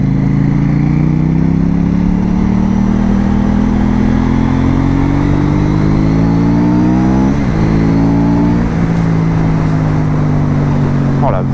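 A light motorcycle rides on a road, its engine close and loud, revs climbing steadily and then dropping sharply at gear changes, with a rider's voice speaking briefly over it.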